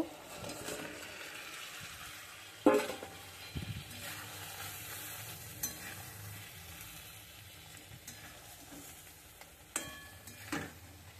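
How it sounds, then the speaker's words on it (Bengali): Fish dropped into a pan sizzles quietly in a coconut-based dish, faint frying hiss with a few sharp clinks and scrapes of a utensil against the pan, low and intermittent. "এখন আমি মাছটা দিয়ে দেব।"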